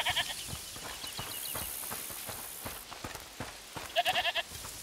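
A goat in the video game A Plague Tale: Requiem bleats in several short, wavering calls, some near the start and a louder series near the end, over soft ambient background.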